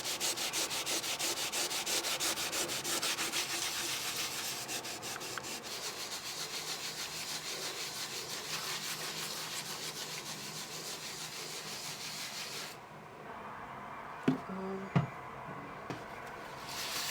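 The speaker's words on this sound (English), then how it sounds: "I'm just going to use the pink stuff on it" The Pink Stuff cream cleaner scrubbed over a household surface to lift residue, a steady close rubbing that runs for several seconds, then stops before a few light taps.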